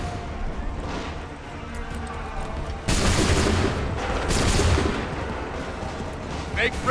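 Musket volleys in Assassin's Creed III crack out as dense, rolling bursts of gunfire, one massed volley slamming in suddenly and a second following moments later amid battlefield din and shouted commands.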